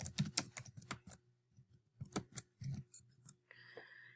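Rapid clicking of keys on a computer keyboard while entering an email and password, a quiet irregular run of taps with short pauses, then a brief higher tone at the end.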